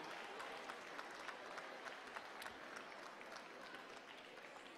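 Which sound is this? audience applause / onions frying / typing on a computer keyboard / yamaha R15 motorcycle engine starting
audience applause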